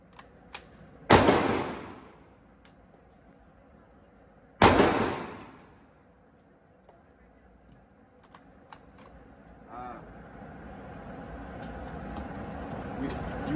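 A MAC 11 fires bad ammunition: two sharp, loud reports several seconds apart, each with a ringing decay, then quiet shuffling and handling noises.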